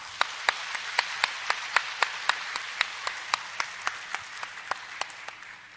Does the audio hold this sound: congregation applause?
yes